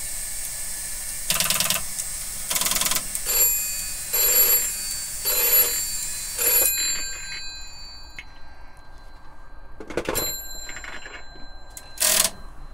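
A VoIP softphone connected to an EMF network rings repeatedly in bursts of electronic trilling, loud and close, with short pauses between rings and a faint hiss behind.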